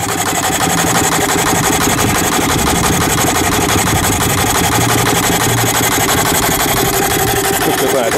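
A coal-fired miniature Garrett traction engine runs close by, giving a loud, steady mechanical chuff and rumble that continues unbroken and fills the scene.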